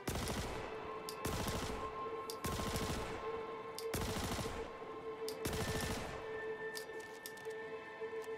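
Custodian SMG from Kastak Arms firing in Star Citizen, five rapid bursts of automatic gunfire, each about a second long with short pauses between, loud and close.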